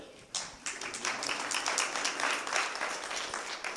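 An audience at a university event breaks into applause after a brief quiet moment, a burst of many hands clapping that swells quickly and holds steady for over three seconds, moderately close, with no speech.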